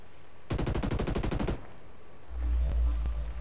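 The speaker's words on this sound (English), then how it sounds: "I hear gunfire." Rapid automatic gunfire from Ghost Recon Breakpoint rattles in one short burst of about a dozen shots, followed by quiet and then a low rumbling boom.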